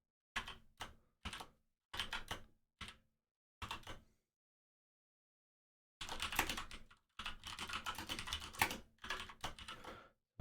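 Fingers type on a computer keyboard in quick, close bursts of clicking keystrokes, separated by short pauses, then a longer, denser run of typing.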